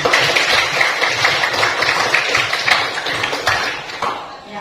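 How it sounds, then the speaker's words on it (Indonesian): A class of students claps together in a classroom, a dense, steady patter of many hands lasting throughout and fading slightly toward the end, with no talk over it. "Tepuk tangan untuk kalian semuanya."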